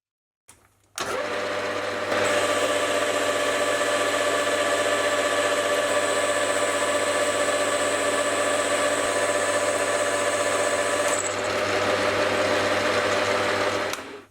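A metal lathe turning a stud during a machining pass, a steady loud motor whine with a high sustained tone that starts abruptly and runs continuously before cutting off, no speech.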